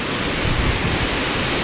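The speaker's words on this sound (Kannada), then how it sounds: "ಸಖತ್ತಾಗಿದೆ ವಾಟರ್ ಫಾಲ್ಸ್ ಮಾತ್ರ." A waterfall at Sirsi-Siddapur roars with a steady, dense rush of falling water, close and loud, with no voices.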